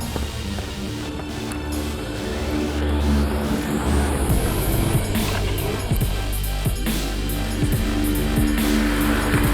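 Polaris RS1 side-by-side race cars racing on a track, a loud, continuous engine roar with passing revs, rising whines and gear changes layered over each other.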